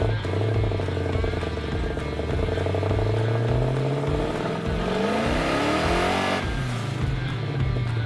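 A car's engine revs loud and close as it accelerates hard, pitch climbing steadily before dropping off, with the tires spinning under the roar and no talking.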